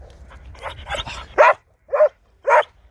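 A dog barks three times in clear, evenly spaced yelps near the microphone, preceded by softer whimpering and panting sounds.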